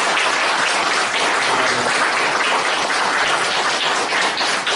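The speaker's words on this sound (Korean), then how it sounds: "우리 김혜지 장로님 한번 뜨겁게 한번 박수로 격려를 한번 부탁드리겠습니다" An audience at a public hearing on a comprehensive anti-discrimination law gives a warm, sustained round of applause to an elder, a loud, continuous wash of clapping with no talk over it.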